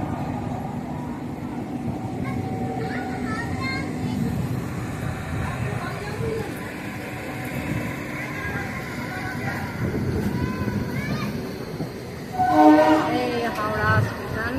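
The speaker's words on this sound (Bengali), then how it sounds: "F7 লোকোমোটিভ ওদিক থেকে আসছে।" An F7 locomotive approaches on the line near Howrah under Bankim Setu, heard from aboard a moving local train: steady rail rumble and clatter, a voice talking, then a loud horn blast near the end.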